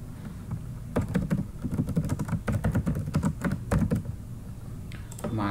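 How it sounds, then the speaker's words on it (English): A street address is typed on a computer keyboard in quick, irregular bursts of crisp key clicks close by, pausing briefly before a last few taps. "Let's type in my street address."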